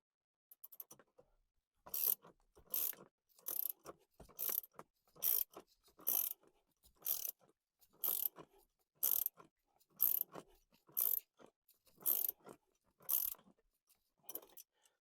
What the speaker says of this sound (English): I can use my ratchet and do the rest by hand.